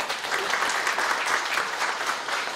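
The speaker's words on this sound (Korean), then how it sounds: "그런 의미에서 박수 한번 보내주시죠." Seminar audience in a hall bursts into steady applause, a dense, even wash of many hands clapping at moderate loudness without a break.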